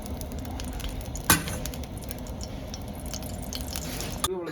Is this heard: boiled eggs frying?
yes